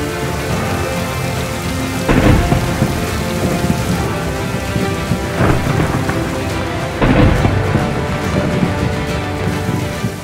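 Heavy, steady rain pours down while several deep rumbles of thunder roll through, loud and close.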